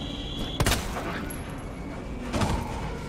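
Gunshots go off in the Resident Evil 2 video game, with two sharp loud bangs about two seconds apart over a constant background of game ambience and music.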